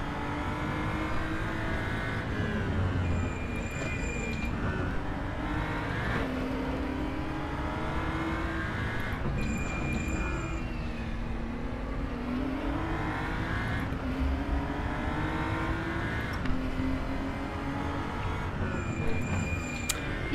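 Engine of a BMW M235i Racing car in the RaceRoom racing game on the Macau street circuit, revving steadily up and down through gear changes, loud and continuous for the whole stretch.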